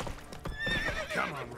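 The horse Roach in the video game The Witcher 3 gives a short, close whinny over a few clip-clopping hoof steps, lasting under two seconds.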